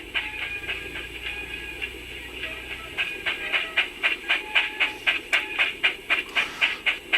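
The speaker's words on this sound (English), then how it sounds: "Now we're going around a tight corner, so let's have a little bit of flange squeal." A sound-fitted Bachmann OO9 narrow gauge Baldwin model locomotive runs through a tight corner, steady rhythmic chuffing beats with metallic ringing tones and a faint hiss, fairly quiet and without voices.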